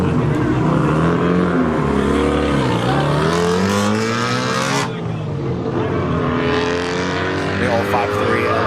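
LS-swapped Nissan S14 drift car with a 5.3-litre V8 at a drift event, its engine roaring and revving loudly and continuously with rising and falling pitch, voices talking over it.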